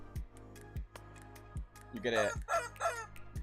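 A pink chicken celebration sound effect plays in a video game under development: rising, crowing clucks burst out near the end over a steady ticking loop, with a person talking alongside.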